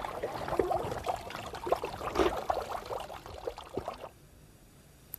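Water runs and trickles through laurel forest in Garajonay National Park on La Gomera, a steady close babble of small splashes and pouring that fades quieter after a few seconds.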